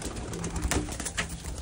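A hand-held pet pigeon coos softly and close by, short low murmuring calls in a quiet indoor setting.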